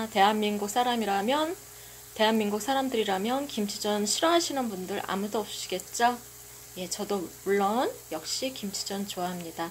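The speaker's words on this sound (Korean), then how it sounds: "지글지글지글. 끓는 소리 들리시죠?" A kimchi pancake fries in a pan, and a soft, continuous sizzle runs beneath a man's steady speech.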